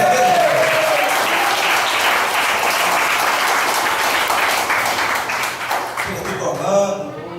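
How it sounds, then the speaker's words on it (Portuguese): A church congregation breaks into sustained applause during a sermon, dense clapping holding steady for several seconds before thinning out at the end, with a voice speaking over it. "Você pode aplaudir o Senhor pela sua vida"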